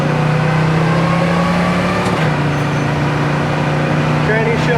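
A 1972 Ford Mustang Mach 1 cruises at about 60 mph in third gear, its steady engine drone and road rumble filling the cabin continuously, with a brief shift-like dip partway through; people talk over it.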